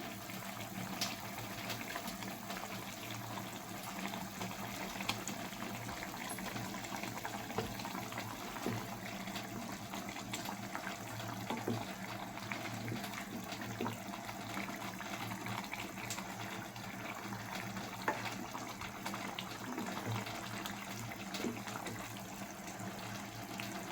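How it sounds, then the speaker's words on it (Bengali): Fish curry gravy at a rolling boil in a pot, giving a dense, continuous bubbling and rushing wash that stays level and close throughout with no talk. "ঝোল ফুটতে শুরু হয়ে গেছে"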